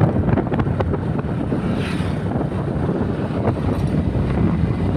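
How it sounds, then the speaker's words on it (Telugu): Strong wind blows outdoors near a quarry as a steady, low, rumbling roar buffeting the microphone for the whole stretch, with no voices. "గాలి బాగా తిరగచ్చు."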